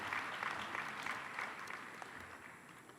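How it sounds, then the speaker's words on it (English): Steady, dense applause from a large hall of union congress delegates at a national teachers' union gathering, continuous and fairly distant, with no talking over it. "We want the Congress to give you a round of applause for being here"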